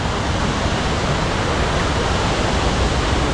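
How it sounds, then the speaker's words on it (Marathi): Steady, dense rushing of falling water, a constant roar with no pauses, loud and close. "बघा इकडे धबधबा"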